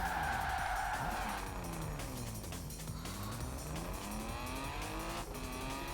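Car tyres skidding and squealing in Forza Horizon 4, a loud sustained screech with sweeping pitch over a revving engine, continuous and close throughout.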